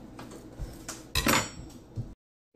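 A plate is set down on a kitchen counter while a simple steak rests, giving a few short clinks and knocks of crockery and cutlery, close and fairly loud, before sudden silence.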